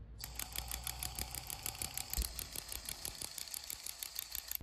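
Milwaukee power ratchet clicking as its head turns, a fast, even train of close mechanical clicks over a steady motor whir, with no talk.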